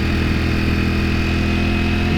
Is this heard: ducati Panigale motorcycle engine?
yes